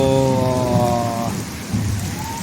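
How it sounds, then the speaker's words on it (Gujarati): Heavy rain pours in a steady, dense wash during a thunderstorm in Nadiad. A tonal hum fades out partway through, and no one speaks. "ફાઇનલી આવી ગયો છે વરસાદ અને વીજળી સાથે"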